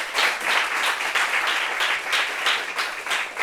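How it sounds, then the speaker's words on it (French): A gathering of friends bursts into applause, dense rapid hand clapping with rhythmic swells, loud and close, continuing steadily throughout. "Et notre bénédiction, c'est nos applaudissements"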